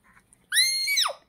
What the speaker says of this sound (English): The scream!